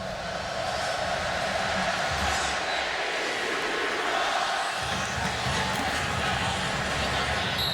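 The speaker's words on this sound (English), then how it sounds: "And the crowd in purple is up and rallying again." Fans dressed in purple at a college football stadium during a TCU at Baylor game rally and cheer in a continuous, dense roar that stays loud throughout.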